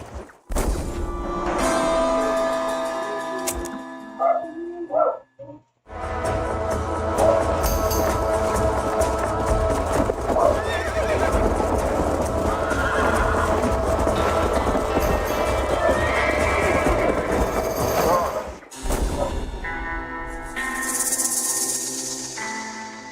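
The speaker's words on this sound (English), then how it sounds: "Que cavalo que é esse, gente?" Horse hooves clatter steadily in the Red Dead Redemption video game, a continuous run of galloping hoofbeats over game ambience, with brief pauses near the start and end and no neigh clearly standing out.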